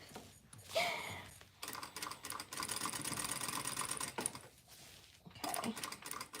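A sewing machine stitches a T-shirt quilt with clear thread, running in a steady, dense mechanical patter for several seconds between short pauses, close by and fairly loud, with no talk over it.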